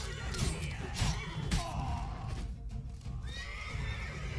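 A horse whinnies loudly a few times over steady hoofbeats and a busy game-like background in The Witcher 3: Wild Hunt, close and prominent.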